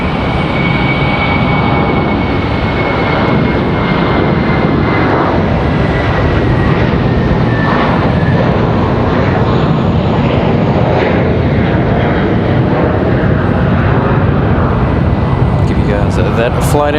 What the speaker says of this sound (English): Got an American A321 on the move.